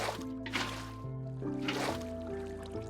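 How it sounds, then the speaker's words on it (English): Water sloshing and splashing in two brief bursts, close to the microphone, over a steady tonal background. "Sorry if this water sound is getting repetitive."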